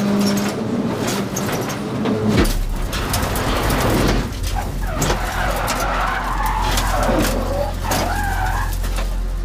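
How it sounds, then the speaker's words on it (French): A rally car at Rallye Charlevoix skids and spins in a narrow town street, tires screeching loudly over a roaring engine, then the engine drones low as the car pulls away, with squealing continuing. "Bellé et Mallette parviennent à poursuivre après cette spectaculaire pirouette dans la rue étroite de la ville."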